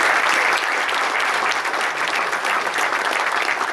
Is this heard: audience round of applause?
yes